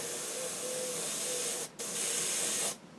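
A spray gun hissing steadily as candy-colour paint is sprayed onto a vehicle wing, cutting out briefly and resuming, then stopping again near the end.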